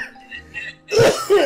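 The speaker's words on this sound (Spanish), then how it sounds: "Pero me sacó la tos." A single cough, sharp and close, bursting out after a moment of quiet low background sound and followed by a second shorter rough exhalation.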